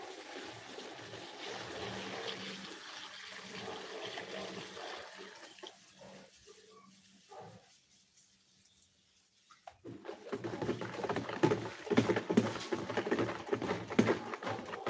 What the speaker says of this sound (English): So I'm pouring in my alcohol now